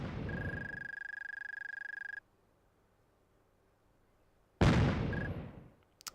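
Rockets firing and exploding in the 1997 PS1 light-gun game Judge Dredd: a sustained buzzing launch tone for about two seconds, a brief silence, then a loud blast that decays over a second and a half, with no talking.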